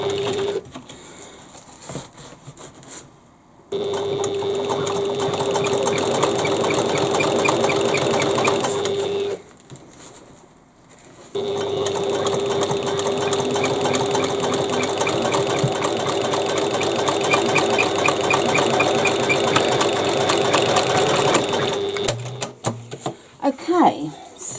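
A sewing machine stitches a bag seam, its rapid mechanical chatter running in two long bursts separated by a brief pause, close and loud with no talking over it.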